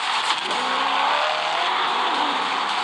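A sports car with a twin-turbocharged V8 engine accelerates hard, with a loud, continuous engine roar rising in pitch, heard up close from inside the car and mixed with road and tire noise.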